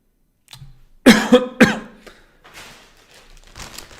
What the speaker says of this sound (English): I might be getting a cough too.